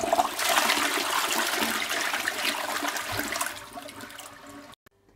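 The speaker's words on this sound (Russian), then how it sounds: "Теперь все в порядке, вода стала уходить." A toilet flushes loudly after its clog is cleared, with rushing, swirling water that fades as it drains away, ending in near silence.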